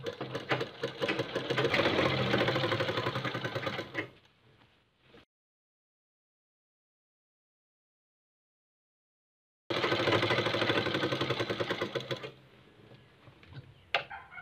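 A sewing machine stitching a kurta runs in two loud, fast, steady bursts of rapid mechanical ticking, separated by a long silent pause.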